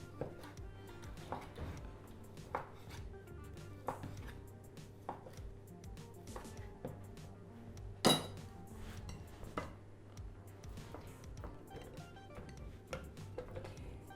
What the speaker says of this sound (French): On va la couper en morceaux et on va la mixer.